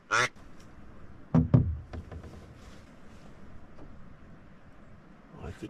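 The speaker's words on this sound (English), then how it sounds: "There's the basic quack." A wild duck quacks in the outdoors in a few short, separate bursts with faint rustling between them, fairly close and moderately loud.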